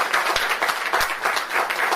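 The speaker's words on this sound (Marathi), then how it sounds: "त्यांच्या प्रेमापोटी एवढ्या सगळ्या टाळ्या आणि सगळ्यांची उपस्थिती आपण बघतोय" An audience at an award ceremony applauds in a steady burst of many hands clapping at once. The clapping is continuous and fairly loud with no talk over it.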